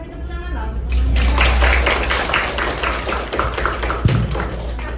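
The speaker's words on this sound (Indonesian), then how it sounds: "Yuk kasih tepuk tangan dong." Students at a school gathering clap together in steady, dense applause with voices mixed in, carrying on for several seconds before a sharp thump near the end.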